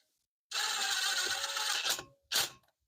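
A wrench torques a bolt on a 2012 Chevrolet Impala LTZ, sounding as a close, continuous ratcheting whir for about a second and a half, then one short final ratchet burst before silence.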